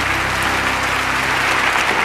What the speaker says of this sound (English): And they all applaud for each other.